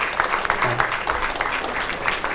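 Sustained audience applause at a ration kit distribution event, a dense steady patter of many hands clapping close by, continuing evenly throughout without pause.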